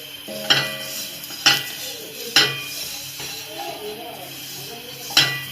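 Coconut and sesame seeds are dry roasted in a pan, with a spatula stirring and scraping and sharp metallic clinks every second or so, while someone talks over the stirring.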